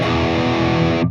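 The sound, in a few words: Fractal cab block with room reverb level at 0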